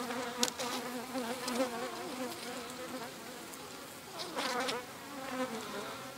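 Honeybees buzzing steadily at a hive in October, where the trays are heavily sealed with propolis; a dense, close, continuous drone.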